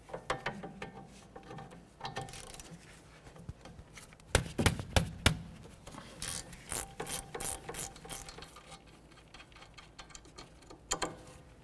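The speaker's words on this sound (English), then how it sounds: "The next thing we're going to do is remove our caliper slider bolts." Hand ratchet working loose the rear brake caliper slider bolts on a 2004-2012 Chevy Malibu, giving rapid clicking pawl bursts with a few sharper knocks in the middle, close up in a quiet garage with no talking.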